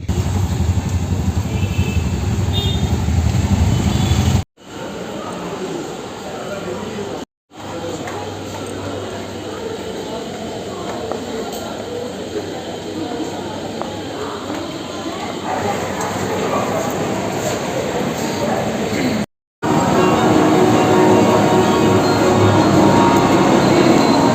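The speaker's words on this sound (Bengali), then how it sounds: "আমি চলে গেলাম কালীঘাট মেট্রো স্টেশনে, কারণ আমি এখান থেকে মেট্রো ধরে এখন যাব আমি কুদঘাট স্টেশনেতে" A Kolkata metro train at Kalighat station gives a continuous loud rumble and rolling clatter that fills the whole stretch, broken by a few abrupt dropouts, with faint voices in the background.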